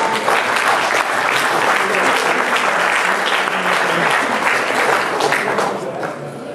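Delegates at a state party convention break into loud, sustained applause, a thick wash of clapping that holds steady for several seconds before tapering off near the end.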